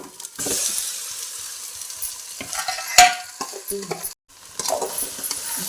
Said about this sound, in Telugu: చికెన్ బాగా కలుపుకొని ఒక పది నిమిషాల వరకు మగ్గించుకోవాలి